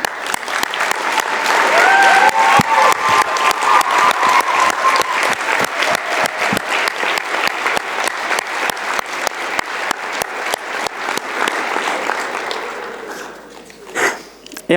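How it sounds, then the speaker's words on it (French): An audience at the FerMUN 2026 closing ceremony applauds the journalists with loud, sustained clapping that rises, holds for over ten seconds and fades near the end, with a brief voice at the close. "Ces applaudissements sont pour vous."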